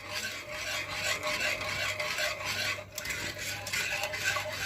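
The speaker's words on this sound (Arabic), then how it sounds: "هيك ضفنا فانيليا، نضل نحرك لحتى يعطينا السماك المطلوبة" A biscuit dessert mixture with vanilla is stirred steadily in a pot, giving a continuous scraping, rasping sound of a spoon against the pan bottom, moderately close with no talking.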